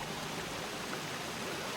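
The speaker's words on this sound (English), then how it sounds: "You can hear water and gas bubbling away." Water and gas bubble away inside a bricked-up volcanic cave thick with poisonous vapour, a continuous dense rushing fizz that stays even and unbroken throughout.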